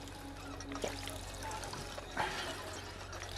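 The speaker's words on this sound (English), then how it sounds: "That's how you drink water, right?" A character in Fallout 4 drinks water, and the gulps and trickle of liquid stand out over a steady low game hum. Two brief louder swallows stand out.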